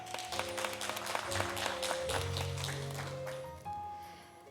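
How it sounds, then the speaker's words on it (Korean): Applause at a religious ceremony starts as a soft patter of clapping that thins out over sustained musical tones, which carry on alone at the end. "다시 한번 따뜻한 박수 부탁드리겠습니다"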